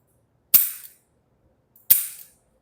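Two sharp gunshots ring out during a firearm recoil lesson, spaced a little over a second apart. Each is a loud, crisp crack with a short decaying tail, and silence falls between them.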